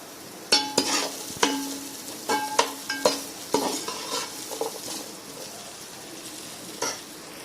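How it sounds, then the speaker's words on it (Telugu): Peeled, washed ginger pieces stir-fried in a pan, with sharp spatula knocks and scrapes over a light sizzle in an uneven rhythm that thins out toward the end. "అల్లం ముక్కలు ఇలా వేయించుకొని"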